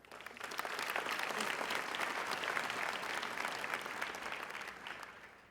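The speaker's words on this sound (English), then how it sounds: "give yourselves a round of applause for everything that you've done" A round of applause fills the hall at a nursing class pinning ceremony, a steady wash of many hands clapping that swells, holds evenly and tapers toward the end.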